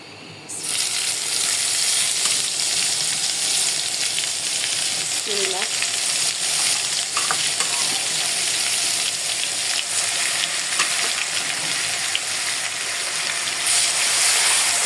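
Dried small fish frying in hot oil with onion paste, a steady, close, loud sizzle and crackle that runs unbroken from start to finish, with faint stirring and no voices.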